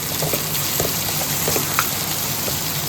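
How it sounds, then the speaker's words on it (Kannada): Eggplant and tomato frying in oil, heard as a steady soft crackling sizzle with a few faint pops, continuous and moderately quiet throughout. "ಬದನೆಕಾಯಿನ ಸ್ವಲ್ಪ ಎಣ್ಣೆಯಲ್ಲಿ ಬಾಡಿಸಿ ಒಂದು ದೊಡ್ಡದಾಗಿರೋ ಟೊಮೆಟೊ ಹಾಕಿ ಮತ್ತು ಸ್ವಲ್ಪ ಫ್ರೈ ಮಾಡಿ."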